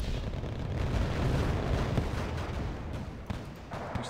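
Napalm strike fire in the wartime strategy game Wargame Red Dragon, a continuous loud roaring rumble of burning and blasts with crackling bursts, sustained throughout without speech.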